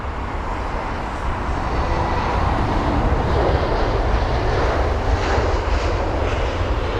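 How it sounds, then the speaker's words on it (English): British Airways jet airliner at London Heathrow around sunset, a loud, continuous roaring engine noise that swells slightly as the aircraft passes near. "There's the BA jet just in time."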